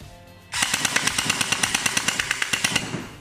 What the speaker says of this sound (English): Now let's try full auto and see what kind of a rate of fire we can get.